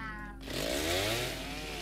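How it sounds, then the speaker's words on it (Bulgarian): Chainsaw cutting wood in a Roblox video game, a revving motor that rises into a loud buzzing whine over steady engine drone. No voices. "Аз отивам да цепя дърва с резачката."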